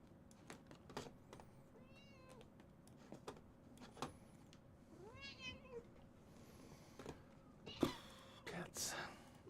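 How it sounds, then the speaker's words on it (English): Cats meow several times, with warbling rising cries, amid faint clicking and a person's quiet voice in a room. "Cats."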